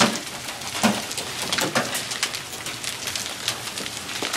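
Hail pelting down during a violent storm, a dense steady patter of sharp hits on surfaces with a few louder cracks, continuous and fairly close, with no voices.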